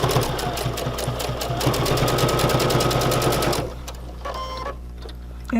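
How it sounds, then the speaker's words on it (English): A sewing machine runs fast, stitching two fabric pieces of a mast with a filter pocket together. Its rapid, even needle chatter lasts about three and a half seconds, then stops, followed by softer intermittent mechanical clicks and a final short burst. "And we're stitching this now just to hold these 2 pieces together."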